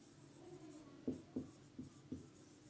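Chalk or marker strokes on a classroom board during a Class 12 physics lesson, four short distinct scraping taps spaced about a third of a second apart, moderately close over a quiet room hum.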